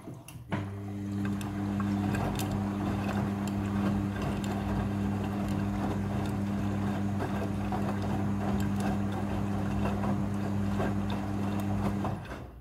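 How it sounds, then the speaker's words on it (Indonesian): Midea front-loading washing machine running its second water rinse, giving a steady droning hum with faint sloshing and clicks that holds constant throughout. "Setelah proses pemerasan selesai, masuk ke proses pembilasan air yang kedua."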